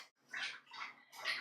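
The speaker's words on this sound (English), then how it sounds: "I have a feeling my dog drinking water is going to be so loud on the audio" A dog laps water from a bowl in a few quick, wet slurping bursts, close and fairly quiet, with short pauses between them.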